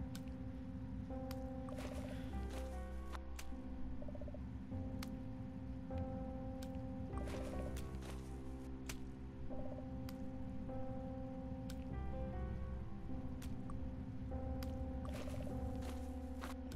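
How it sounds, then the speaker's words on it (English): Water dripping in a sewer tunnel in the Goosebumps video game, sharp isolated drips landing at irregular intervals over a low ambient hum, with quiet musical tones in the background and no talking. "You can hear the dripping, though."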